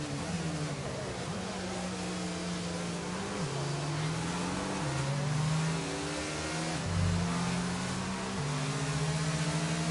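A safety car pulls away in a racing video game at Bahrain: a steady engine note climbs and drops through repeated gear shifts, with a deeper rumble near the end.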